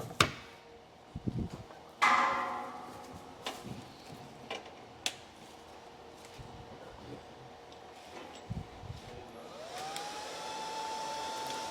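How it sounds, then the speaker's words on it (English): A hair dryer blows across a freshly dyed fabric panel, a steady airy whir running throughout with intermittent knocks and handling clicks, rising to a louder whine near the end. "Caesar going to dry it for me"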